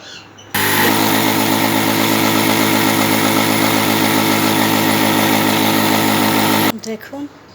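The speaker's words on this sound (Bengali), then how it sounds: "এগুলো দিয়ে এখন আমি ব্লেন্ডারে ব্লেন্ড করে আটা তৈরি করে দেখাবো।" An electric blender grinds roasted ragi (finger millet) into flour, switching on abruptly into a loud, steady high-pitched motor whine for about six seconds before cutting off, with brief voices around it.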